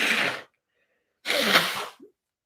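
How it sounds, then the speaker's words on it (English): Two sharp sneezes from a woman, loud and close, about a second apart, with a short breathy sound after the second and near-silence between them. "I'm like literally sneezing."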